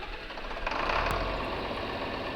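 Tractor engine in Farming Simulator starting up and running at a steady idle, a continuous mid-loud drone with a slight swell around the one-second mark.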